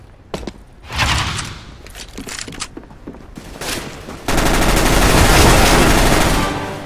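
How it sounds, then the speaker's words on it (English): Rapid gunfire in a video game deathmatch, with a shotgun among the weapons: scattered sharp shots and thumps, then a dense, loud sustained burst of fire near the end. "I took your advice and I used the shotgun"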